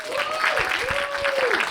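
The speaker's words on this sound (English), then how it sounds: "Give him a big cheer." A live audience at a comedy show cheers and applauds a stand-up comedian, a steady dense wash of clapping with a whistle-like tone rising and falling over it.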